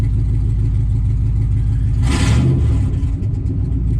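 Close, loud, deep exhaust drone from a 2003 Dodge Ram 1500 running on rusted-out pipes, holding steady throughout, with a brief hissy blip midway.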